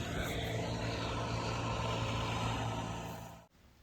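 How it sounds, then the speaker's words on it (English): A leaf vacuum sucks up fall leaves during a yard cleanup, making a steady, loud engine roar with a droning hum that runs continuously and then cuts off abruptly near the end. "As you can see here, I started using the leaf vac."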